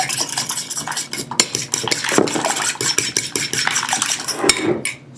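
Turkey nuggets being mixed with hot sauce and Cajun seasoning, a busy close run of utensil clinks and wet stirring against a bowl, continuous with frequent sharp taps.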